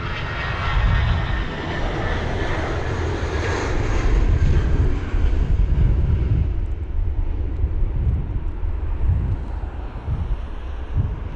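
A British Airways Airbus A320-200 airliner at London Heathrow during Storm Kathleen, its engines producing a steady, loud jet roar with broad rumble that fades slightly as it passes, mixed with gusty wind noise on the microphone.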